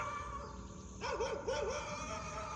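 A dog gives a few short, wavering yips and barks at moderate distance, rising and falling over a steady room hum, with no talk over it.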